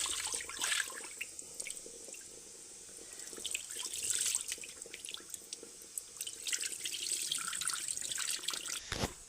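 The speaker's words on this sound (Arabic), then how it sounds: "غنغسلو شي مره ولا جوج حتى تيصفى داك الماء ديالو ما تيبقاش موسخ" Almonds are rinsed in a sink under a running tap, with a steady splash of water and scattered drips and clatter in a kitchen. No one speaks.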